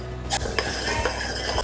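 A spoon stirs sesame flour mixture into melted jaggery in a metal pan, giving a steady series of close scraping clinks against the pan with no voices.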